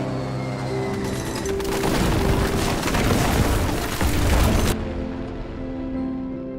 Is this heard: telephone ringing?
no